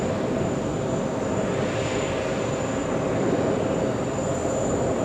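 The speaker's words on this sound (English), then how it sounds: "EVA 32, you can hear it. Strong engine, strong reverse thrust." An EVA Air airliner landing at JFK roars with strong reverse thrust, a loud, steady engine rumble held throughout with a faint high whine above it and no voices.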